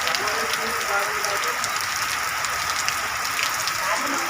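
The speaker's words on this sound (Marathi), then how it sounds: "अशा प्रकारे पावसानं जोर धरलेला आहे मित्रांनो." Heavy rain pours down in Palus, Sangli, Maharashtra, a dense, continuous hiss that fills the scene without pause; faint voices sit beneath the downpour.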